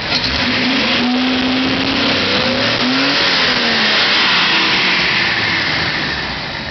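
A Datsun 280Z engine revs hard up toward 7,000 RPM, a loud, close, steady engine roar whose pitch climbs and wavers with a rough, buzzing edge throughout and no voices.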